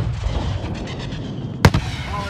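A grenade goes off in Call of Duty: Modern Warfare 2019 during a mission at an embassy, one sharp close blast with a brief rumbling tail, following muffled battle noise and a shouted voice beforehand.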